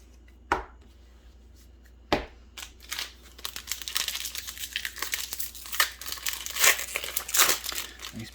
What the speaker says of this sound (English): These packs are definitely harder to open than I remember.